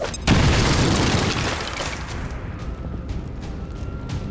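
A thrown grenade detonates in the XCOM 2 video game, a single loud, close boom with a heavy low-frequency burst that rolls into a long, fading rumble and debris noise.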